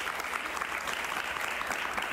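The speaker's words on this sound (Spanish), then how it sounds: "Un aplauso para ella." Audience applause for a singer on a talk show, a continuous wash of many hands clapping at a steady, fairly soft level with no voices over it.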